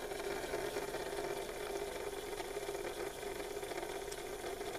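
A rebuilt model railway locomotive motor runs slowly and steadily, giving a faint, even whirring hum with a light mechanical rattle and no voices.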